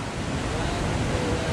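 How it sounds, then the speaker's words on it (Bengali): Big ocean waves at Tanah Lot in Bali break in a steady, loud roar of surf, with wind rushing across the microphone throughout. "ঢেউয়ের সাইজগুলো বিশাল বড় বড়"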